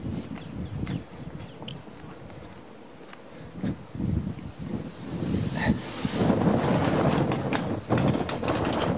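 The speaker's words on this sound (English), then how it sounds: "The wind's getting up." Gusty wind blows across a microphone outdoors on a suburban street walk near a park drive, a steady low rumble that swells louder and rougher in the later seconds, with no voices.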